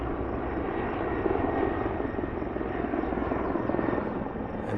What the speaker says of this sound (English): You can hear the chopper and the air support all around me right now.